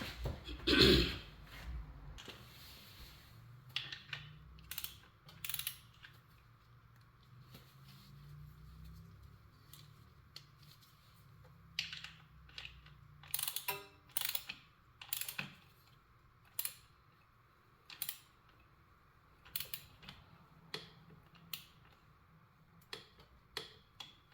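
A torque wrench tightens the oil drain bolt on a Kawasaki Ninja 400 motorcycle, giving a steady run of sharp clicks and ratchet ticks, close and fairly quiet, with no talking.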